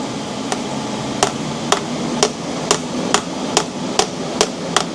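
A hammer gives a steady series of about nine light, evenly spaced metallic taps on a transmission drain plug with a crush washer on a Nissan Pathfinder CVT, close and crisp with no talking.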